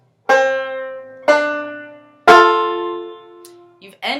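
Three ringing banjo pickup notes from Kansas City Railroad Blues, each plucked and left to decay, evenly spaced and close, followed by a brief start of speech.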